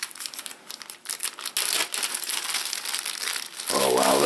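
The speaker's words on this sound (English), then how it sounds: "Here we have a pocket coat. What is this, like a poncho?" Thin see-through plastic emergency poncho from a roadside auto kit crinkles and rustles steadily as it is unfolded and handled, close and fairly loud, with a louder burst of crumpling toward the end.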